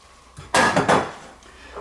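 An egg flipped in a frying pan for a bacon, egg and cheese croissant sandwich: a quick scrape and clatter of a spatula against the pan, one short loud burst of metal contact, then quiet.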